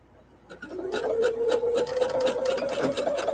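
A sewing machine stitches a fabric mask in a steady, continuous whir with a faint rhythmic patter of the needle, close and fairly loud after a quiet start.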